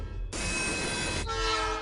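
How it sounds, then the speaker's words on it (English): A train rushes past in the video game Life is Strange, a loud sustained rumble with a horn-like tonal blare, running continuously at close range without talk. "Ah, train!"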